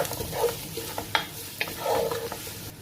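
Onion and bulgur fry in olive oil that has not yet heated, giving a soft sizzle under brief stirring clatters and scrapes of a utensil, close and fairly quiet, with no voices.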